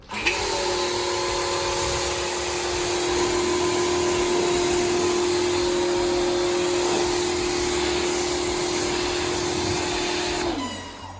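A pressure-washer hose spraying foam off a 2006 Ford FPV GT gives a loud, steady hiss with a constant motor whine that runs unbroken for about ten seconds before cutting off abruptly.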